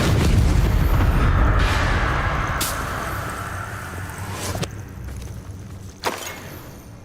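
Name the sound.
Confringo spell explosion in Hogwarts Legacy (video game)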